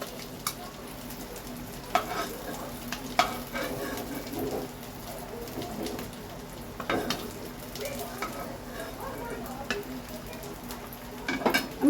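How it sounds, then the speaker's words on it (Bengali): Eggs frying in an oil-filled pan while cooking egg korma: a steady, moderate sizzle runs throughout, broken by occasional sharp scrapes and clinks of a utensil against the pan, with no talking. "দেখো আমার ডিমগুলো সব ভেজে তুলে নেওয়া হয়ে গেছে।"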